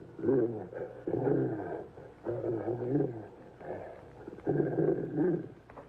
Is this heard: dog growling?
yes